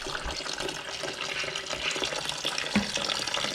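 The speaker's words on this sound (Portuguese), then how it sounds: "E agora pode deixar cair uma água fria em cima dela." Cold water pours steadily from a tap over a batch of cooked fishing bait dough, a continuous splashing rush with a few louder spatters, no voices.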